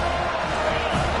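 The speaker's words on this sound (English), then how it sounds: "They challenge this crowd to bring the energy, and I'd say they're doing that." Stadium crowd at a football game keeps up a dense, steady roar of cheering for the whole moment, loud and continuous with no distinct break.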